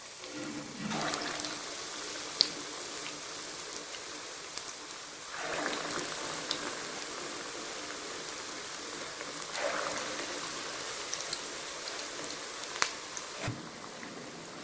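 Palak pakoras, spinach fritters, fry in hot oil with a soft, steady crackling hiss that swells and fades in waves, fairly quiet and with no talking.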